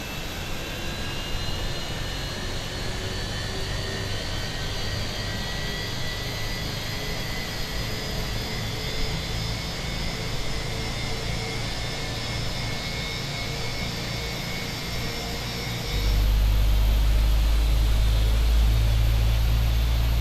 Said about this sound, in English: we're going to start engine number 1